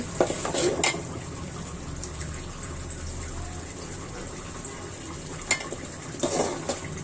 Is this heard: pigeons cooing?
no